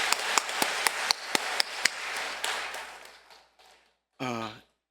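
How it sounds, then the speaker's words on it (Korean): A church congregation at the opening worship service of a retreat claps in thanks: sharp, evenly spaced claps over a wash of applause that fades out, followed by a brief voice. "뜨거운 감사의 박수를 드리겠습니다"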